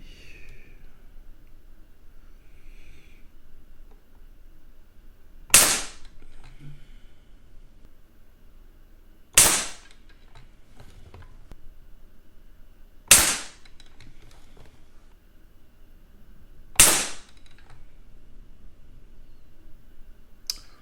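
A Crosman APX NXG air rifle shooting Crosman Domed pellets at 10 m gives four sharp, snappy shots spaced a few seconds apart, each a crisp crack with quiet room tone between them.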